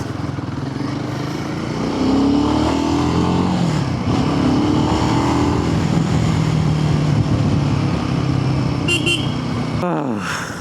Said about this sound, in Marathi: कॉन्फिडन्स येतोय मला गाडी चालवताना